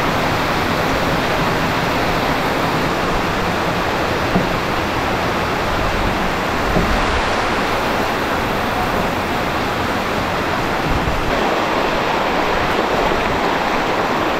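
Heavy rain pours steadily at a river, a dense, loud, unbroken hiss of falling water with no pauses and no voices.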